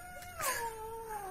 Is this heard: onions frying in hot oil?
no